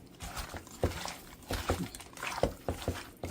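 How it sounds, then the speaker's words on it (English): Cooking oil poured onto seasoned goat meat for Indian-style curry goat, giving soft liquid splashes and irregular patters against a low background of kitchen handling, fairly quiet. "we're going to drop the cooking oil on him"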